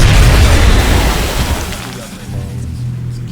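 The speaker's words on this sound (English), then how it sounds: "Throwing grenade." A grenade blast in XCOM: Enemy Unknown opens with a loud, close boom that rolls off into rumbling debris over a few seconds, while a voice speaks faintly underneath.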